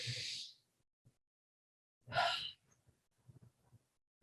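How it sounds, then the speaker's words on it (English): Deep breaths during a guided meditation: a long, airy breath at the start, then a second strong inhale a couple of seconds later, with soft faint breathing and small mouth sounds between them in a quiet room. "Take a deep breath in."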